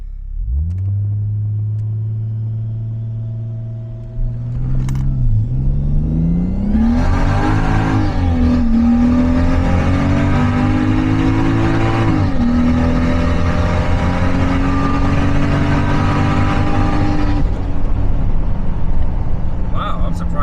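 A 2JZ-GTE turbo-swapped Lexus GS300 idles with a deep rumble, then launches hard on 285 street tires. A loud, sustained roar rises through the gears for over ten seconds before easing off.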